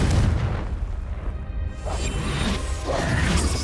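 Confringo explosive spell cast in the video game Hogwarts Legacy, a loud booming blast with crashing, rumbling debris that sustains for several seconds.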